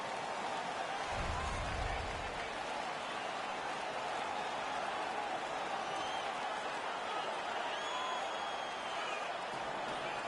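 In an NHL 16 video game, the home crowd cheers and roars after a fight, a continuous loud wash of noise from the arena that holds steady the whole time.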